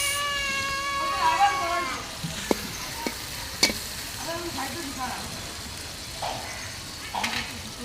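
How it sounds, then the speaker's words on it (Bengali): Eggplant curry with oil, onion and green chili frying in a pan, a steady sizzle under scattered clinks of a utensil against the pot, while a cat meows loudly near the start. "বেগুন রান্নাটা বসাই দিছে, দিয়ে দিছে তেল, পেঁয়াজ, দিয়ে দিচ্ছে কাঁচামরিচ"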